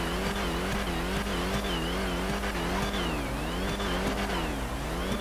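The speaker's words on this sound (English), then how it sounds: "Hellcat sounds so nice" A Dodge Hellcat engine in GTA V FiveM roars steadily, its pitch wavering up and down as the car revs and shifts, loud and continuous with no talk over it.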